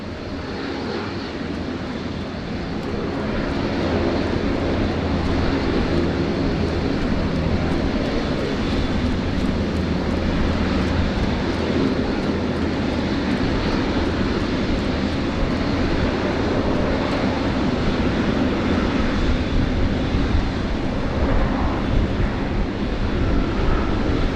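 Aircraft at Sydney Airport on a rainy day: a steady, loud engine roar builds within the first few seconds, then holds as a broad, unbroken rumble for the rest of the stretch.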